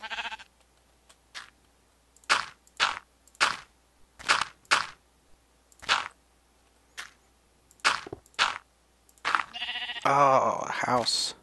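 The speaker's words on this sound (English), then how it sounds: "Stay away from me, sheep." Sheep in the Minecraft video game bleat in a series of short, sharp calls spaced irregularly, about a dozen in all, followed by a denser burst of game sounds at the end, no speech.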